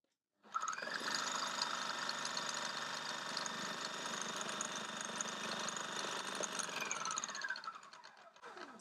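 A Magimix Cook Expert food processor runs on its automatic setting with a steady, even motor whir that starts abruptly, holds for several seconds, then winds down.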